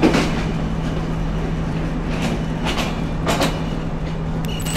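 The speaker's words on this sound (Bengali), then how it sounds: "এই যে চিত্রা কিন্তু খুলনা রেলওয়ে স্টেশন থেকে ছেড়ে দিল ঢাকার উদ্দেশ্যে।" Chitra passenger train pulling out of Khulna railway station toward Dhaka, a steady low rumble with a constant hum and occasional brighter clatter, filling the whole stretch without any voices.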